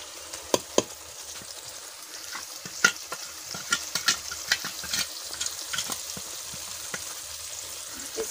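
Onions and spices fry in a pan for jackfruit curry, with steady sizzling and sharp scraping clicks of a spoon stirring at irregular moments, close and moderately loud, no talking.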